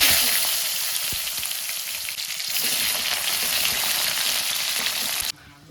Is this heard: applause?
no